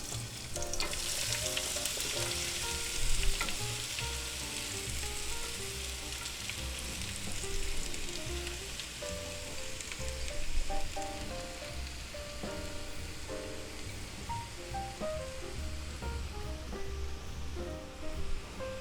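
Cabbage, peppers and onions fry in oil in a pan over a medium-low burner, giving a continuous crackling sizzle with occasional clinks and scrapes of stirring, close and steady.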